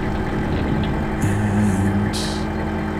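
Heavy truck engine cranking and catching in the MudRunner off-road game, a low steady drone with a rising tonal growl at ignition and brief hissing bursts, no voices over it.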